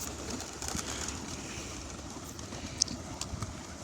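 Soft cooing from a loft of about 250 pigeons murmurs over a steady indoor hum, with faint rustles and one brief sharp click near the end.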